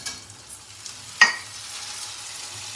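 Cauliflower florets frying in a pan for a tomato curry give a soft, steady sizzle, with one sharp clatter of stirring about midway; no voices.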